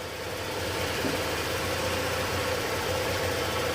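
A Honda Click scooter engine idles steadily and evenly, a low, smooth running hum with a faint mechanical whine, heard alone at moderate volume.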